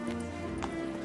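Roach, the horse in The Witcher 3, gallops with rapid rhythmic hoofbeats over a droning game soundtrack, moderately close and steady throughout.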